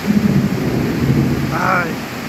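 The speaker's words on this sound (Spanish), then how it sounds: "veamos la lluvia todos juntos" Steady rain falls through a stormy riverside downpour, a dense continuous hiss with low rumbling thunder underneath, and a brief higher tone rising near the end.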